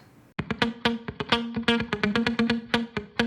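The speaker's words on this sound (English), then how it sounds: "I also have a rhythmic guitar in the break," Rhythmic guitar from a song's break, choppy plucked notes struck in a tight syncopated pattern, clear and close with no voices.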